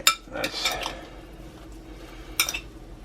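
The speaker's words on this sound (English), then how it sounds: "And just give it a nice stir." A utensil stirs food in a cast iron pan while making chicken burritos, giving a few scraping, clinking strokes near the start and another brief burst toward the end, close and moderately loud with a quiet gap between.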